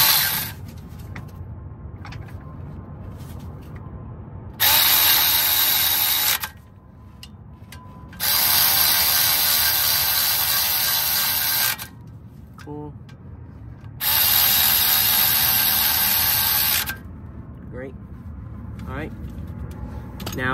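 Ratchet wrench tightening engine mount bolts on a Mazda during an engine mount replacement, heard as three loud bursts of steady rapid clicking of about two to three seconds each, with quieter handling noise between them.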